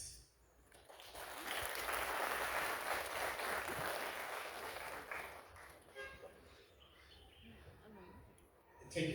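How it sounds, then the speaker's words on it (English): Audience clapping for themselves at a training completion gathering preparing for an OIC summit, a broad wash of applause swelling in and holding for several seconds before thinning out, with light scattered sounds as it fades. "For all of us to give a round of applause to ourselves."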